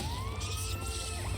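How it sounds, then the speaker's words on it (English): Siren wailing in the video game Final Fantasy XIII, a steady rising and falling tone heard faintly and continuously, with no talking. "And here we go again, just sirens blaring."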